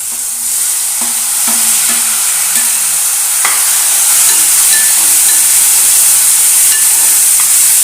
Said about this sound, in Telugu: ఇప్పుడైతే టమాటా వేసేస్తాను ఇదిగోండి టమాటా